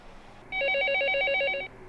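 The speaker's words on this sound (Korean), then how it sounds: "YTN 사이언스 TV 앞으로 한 통의 전화가 걸려왔다" A telephone rings once in a continuous trilling burst of electronic bell warble lasting just over a second, loud and close against a quiet background, with no voices.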